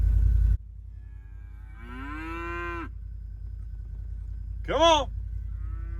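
Cows moo on a farm, two drawn-out calls a few seconds apart, one rising at the end, over a low steady background rumble; a person briefly calls out at the start.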